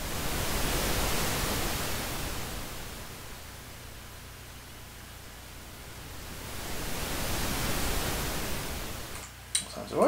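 Synthesized ocean waves built in Sound Forge, a broad hiss that swells loudly, fades to a quieter trough mid-way, then surges again like irregular breaking surf, alone with a brief click near the end.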